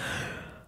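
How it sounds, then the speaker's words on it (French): A short, close yawn fades out as a breathy exhale in under a second, with no other sound. "Je baille."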